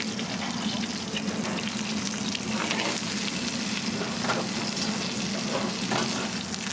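Pre-cooked meat sears on a hot grill with a dense, steady sizzle and scattered pops and crackles throughout, close and continuous.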